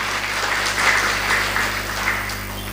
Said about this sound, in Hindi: उनके नाम से ताली बजाइए जिसने आपको धक्का दिया है